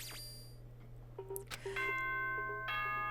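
Ding-dong chime from the Danganronpa video game: a bright two-tone bell rings out over a low steady hum, its tones sustaining and overlapping, with no talk.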